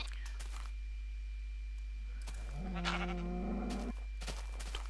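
Sheep in Minecraft bleat in a few clear, wavering cries mid-clip, up close over a quiet game background with brief clicks.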